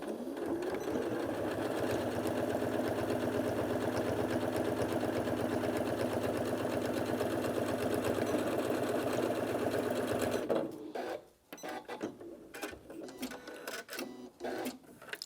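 Janome Atelier 9 sewing and embroidery machine stitching through four layers of fabric, a loud, close, continuous rhythmic whirring for about ten seconds, then stopping and giving way to fabric handling noises.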